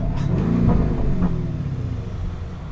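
A 650 HP Lamborghini Urus SUV engine revs up loudly nearby, a throaty roar that swells then settles into a lower rumble, no voices present.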